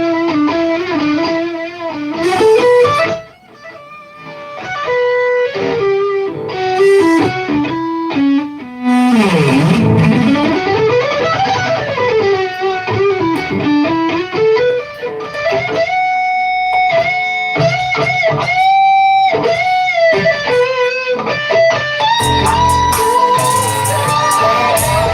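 Electric guitar played through a buss compressor with added grit and distortion, a loud, sustained driven tone with sliding, bending notes and repeating ping-pong echo delay trails throughout.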